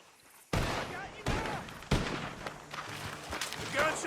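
Several sharp gunshots crack out in a Red Dead Redemption 2 bounty-hunting shootout, irregularly spaced bursts with a noisy echoing tail, mixed with voices talking in the background.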